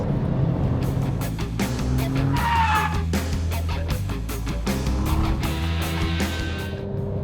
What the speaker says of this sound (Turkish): Alet soluksuz hızlanıyor.